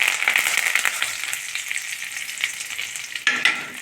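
Curry leaves and urad dal fry in a pan with a bright, steady crackling sizzle, ending in a sudden sharper burst of spattering.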